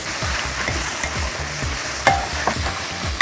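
Ingredients stir-fried in a pan for a minced pork and glass noodle dish, a close sizzle with repeated quick spatula scrapes and a couple of sharper clinks.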